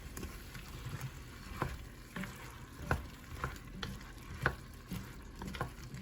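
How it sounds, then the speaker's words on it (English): Cayenne is stirred into potato soup in a pot: a soft, low bubbling sizzle with regular scraping strokes of the spoon, repeating roughly every half second. "I'm going to mix that up really good"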